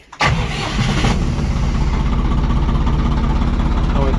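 A small LOVOL tractor of 24–35 horsepower with a cab cranks briefly, catches and settles into a loud, steady diesel idle close by.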